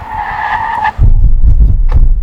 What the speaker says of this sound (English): Brake test from 60 miles an hour.